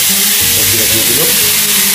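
Potato, papaya and radish vegetables sizzle steadily in a hot frying pan, a continuous close frying hiss with soft stirring and faint background voices.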